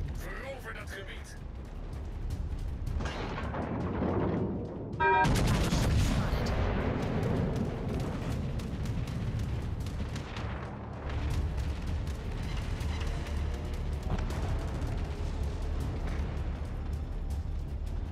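Naval guns on the battleship Kansas firing at a target in a video game, heavy booming salvos and rumbling blasts rolling continuously, with a loud burst near the middle and voices talking over the barrage.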